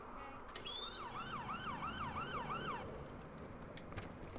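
Ambulance siren in the game Watch Dogs 2, a wailing tone sweeping up and down in quick regular cycles. It is fairly faint, as if passing at a distance over steady street ambience, then fades out partway through.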